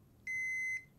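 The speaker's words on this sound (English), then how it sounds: "Oops, beeping." An electronic device gives a single clean, high-pitched beep lasting about half a second, close and clear over a quiet background.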